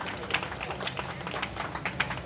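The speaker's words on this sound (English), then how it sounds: "So I'm gonna ask for a round of applause, please" Faint, scattered applause rises from an audience at a cruise port presentation at a trade conference, with loose, uneven claps heard from a distance.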